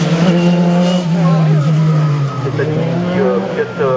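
Single-seater race car number 3 running a slalom course, engine note rising and falling steadily and loud throughout, with brief tyre squeal as it turns between gates.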